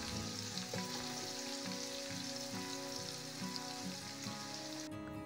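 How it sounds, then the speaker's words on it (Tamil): Sliced large onions frying in oil for mutton biryani give off a dense, steady sizzle that holds evenly from start to finish, close and unbroken, with no voices. "வெங்காயத்தை நல்ல பொன்னிறமா ஆகற வரைக்கும் வதக்க விடுங்க"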